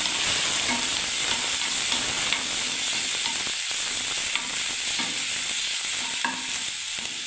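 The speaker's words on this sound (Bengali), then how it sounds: "আর আদা পেস্ট আমি দিয়ে দিচ্ছি বন্ধুরা। এবার আমি নাড়তে থাকবো বন্ধুরা।" Onion and ginger paste frying in a pan, stirred continuously, a steady loud sizzle broken by repeated scraping strokes of the stirring spoon, with no voices.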